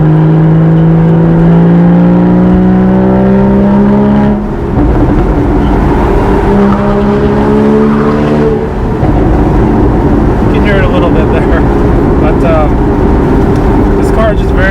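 A Porsche Boxster Spyder engine drones and revs loudly and steadily, rising in pitch through the gears with a rumbling exhaust burble throughout.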